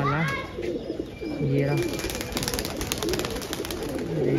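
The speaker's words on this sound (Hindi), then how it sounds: "भाई वो आ गया कबूतर, देख सकते हो आप ऊपर उतरने वाला।" A pigeon lands and coos close by, low rolling coo phrases over a brief flutter of wings, with someone speaking over part of it.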